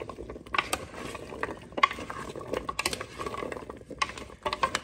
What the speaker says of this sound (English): we're just going to put that on and stir it up